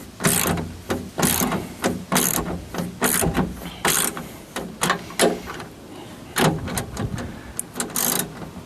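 Ratchet clicking in quick bursts while tightening bolts on Rock Hard 4X4 boat side sliders, a run of sharp close pawl clicks with short pauses between strokes, no talking.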